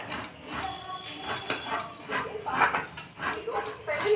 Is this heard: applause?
no